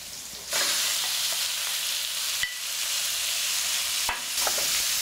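Squid sizzling loudly in a pan of olive oil with garlic and rosemary, a steady broadband frying hiss with sharp bursts as pieces hit the hot oil and get stirred, no talking.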